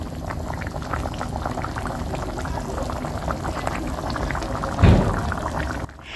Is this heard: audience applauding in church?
no